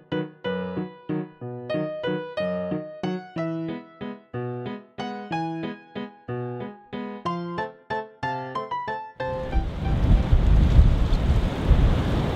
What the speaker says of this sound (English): The storms came in February, one after another, turning the canal into a wavy sea.